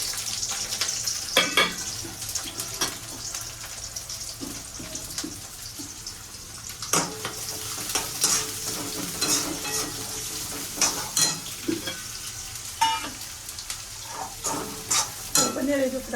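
Spices crackle and sizzle as they are tempered in hot oil in a home kitchen pan, with scraping stirs and sharp pops recurring over steady frying noise, close and fairly loud, with no talking.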